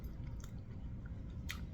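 Close, faint mouth sounds of biting and chewing a crunchy fried pork chop with hot sauce, with a couple of crisp crunches breaking through the quiet chewing.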